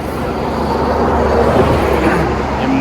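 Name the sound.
road traffic behind Narmada ghat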